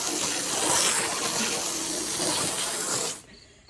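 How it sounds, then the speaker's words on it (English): A garden hose set to a high-pressure power-wash spray blasts water in a steady loud hiss and gush for about three seconds before cutting off abruptly. "You don't want to be able to power wash like this."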